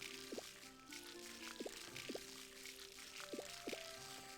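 Crops watered with a watering can in the farming game Harvest Moon: Light of Hope, a faint bed of soft pouring with five quick bubbly blips spaced irregularly.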